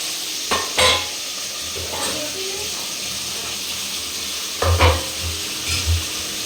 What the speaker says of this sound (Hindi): अभी दोनों को हम साथ में फ्राई करेंगे, गोभी को भी